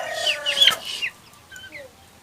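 A chicken clucks nearby in a short burst of clucking, followed by a few fainter, softer calls.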